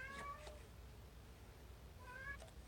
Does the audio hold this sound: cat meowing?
yes